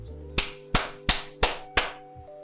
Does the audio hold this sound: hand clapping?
yes